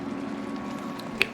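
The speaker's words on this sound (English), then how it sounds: "Now that we got a really nice simmer going on" Beef stroganoff sauce simmers in a pan with soft, low, continuous bubbling, broken by one crisp pop near the end.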